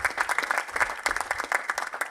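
An audience at a university graduation ceremony claps in a dense burst of handclaps. The applause sounds close and continuous throughout, with no talking.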